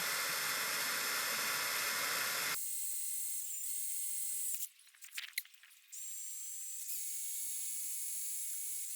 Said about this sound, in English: I'm just taking it slow with my drill so I can preserve the life of this drill bit.